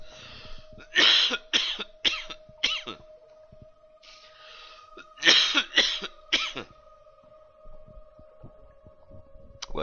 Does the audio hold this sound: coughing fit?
yes